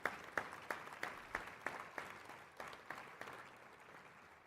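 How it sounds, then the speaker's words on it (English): Audience applause for panelists after a supply-chain panel session, a small group clapping in a fairly slow, loose rhythm of distinct claps that gradually tails off, with no speech. "I think a big round of applause for our panelists this afternoon."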